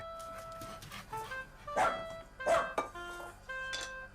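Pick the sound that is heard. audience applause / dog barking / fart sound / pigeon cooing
dog barking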